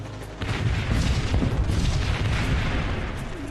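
Massed artillery guns firing in a war film about the October War tank battles, a dense continuous barrage of deep booms and rumbling blasts that swells in loudly after a brief lull and carries on without pause.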